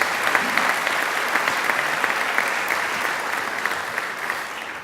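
Audience at a Macquarie University graduation ceremony in the graduation hall applauds steadily, a dense, even wash of clapping that holds for the whole stretch and eases slightly at the end.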